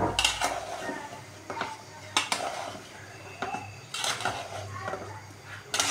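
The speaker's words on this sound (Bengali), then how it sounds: "লাউ দেওয়ার পরে কিছুক্ষণের জন্য লাড়াচাড়া দিয়ে এখন লাড়া দেওয়া হইতেছে" Gourd curry being stirred in a cooking pot, a spoon scraping and clinking against the metal in repeated strokes, fairly close and moderately loud, with a few louder clanks.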